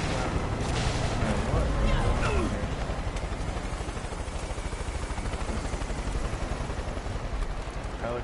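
A steady helicopter rotor drone fills the scene, with sound effects from the video game Far Cry 5 and occasional distant shots layered over it.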